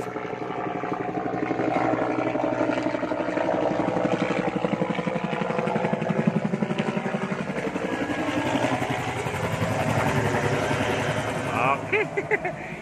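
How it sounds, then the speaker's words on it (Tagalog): Helicopter flying overhead above a home vegetable garden, a steady rotor thrum with rhythmic chopping that swells and holds at moderate distance, with a person talking over it. "May commercial tayong helicopter."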